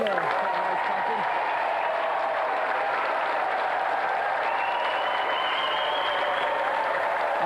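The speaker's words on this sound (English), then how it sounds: "let's have another round of applause for our gallant winner, Catherine Allen!" A large television game show studio audience applauds a winner steadily and loudly throughout, a dense continuous wash of clapping with faint cheers mixed in.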